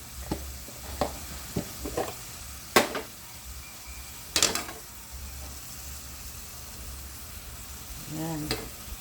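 Alamang shrimp paste and sour kamias with oyster sauce, brown sugar and chilli are stirred in a frying pan: irregular scrapes and clinks of the utensil against the pan over a low, continuous sizzle.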